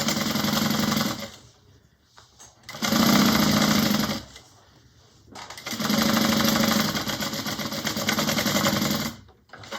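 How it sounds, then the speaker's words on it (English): Sewing machine running bursts of stitching along a quarter-inch seam in thin ripstop fabric for a bag, three long steady runs separated by short pauses, close and loud. "I'm just sewing this on with a 1/4 inch seam allowance."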